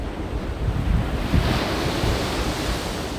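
Ocean surf breaks and washes onto the beach at Hiratsuka on the Shonan coast of Japan, a steady dense roar with gentle swells in loudness, mixed with wind buffeting the microphone.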